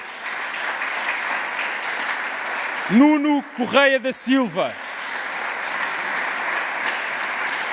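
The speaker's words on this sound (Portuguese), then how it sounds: "3 antigos presidentes da Juventude Popular, para quem também peço uma salva de palmas" Crowd at a Juventude Popular anniversary event applauds former presidents, steady applause running throughout while a man announces a name over it midway.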